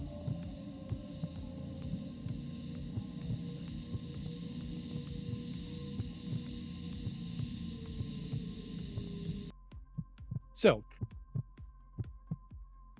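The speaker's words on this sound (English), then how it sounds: "let me stop the heartbeat. Stop the heartbeat." Heartbeat sound effect: slow, evenly spaced low thumps over a steady background hum that keeps going for most of the clip, then sharper isolated beats near the end.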